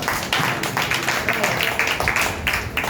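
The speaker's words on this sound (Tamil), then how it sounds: "ஒரு கைத்தட்டு கொடுங்க" A congregation claps steadily in a dense, sustained round of applause during a sermon by a pastor. It sounds moderately loud and close, and a voice may be faintly present underneath.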